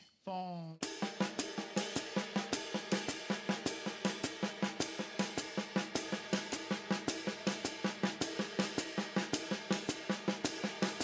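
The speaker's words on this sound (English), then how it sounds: "And the downbeat in the hi-hat is going to sound like this." A drum kit plays a steady, even pattern with the hi-hat accenting the downbeat, sharp regular hits repeating close and moderately loud for several seconds with no talk.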